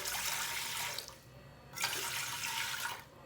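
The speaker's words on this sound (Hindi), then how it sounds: "3 गिलास पानी डाल लेंगे।" Water poured from a glass into a cooking pot for a beef dish made without oil or ghee, a steady rushing splash that pauses briefly and then resumes, heard close and alone.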